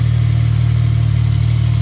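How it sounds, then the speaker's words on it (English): A Triumph Daytona 675 three-cylinder motorcycle engine idles steadily at close range, a loud low throbbing hum with an even rhythmic pulse and no change in pace. "Sounds pretty good for the 3-cylinder."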